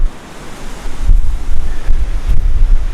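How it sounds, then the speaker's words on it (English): Heavy wind buffets a microphone outdoors on a windy mountain campsite, a loud, rumbling roar that swells and surges in gusts with no voices. "Pretty sure the audio is gonna suck because of how windy it is."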